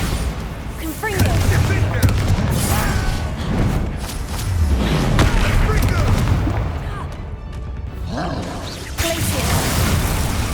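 Confringo and Bombarda spells in Hogwarts Legacy go off in loud, booming blasts and rapid crackling bursts. Heavy game combat continues throughout, with shouted spell names over it.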